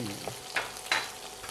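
Chopped green chillies sizzle in a hot pan, with a few short bursts of spitting as they are dropped in and stirred, fairly quiet with no talking.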